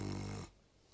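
A man imitates snoring with his voice, a rough rattling snore for about half a second that cuts off into quiet, demonstrating nasal snoring in a talk about sleep.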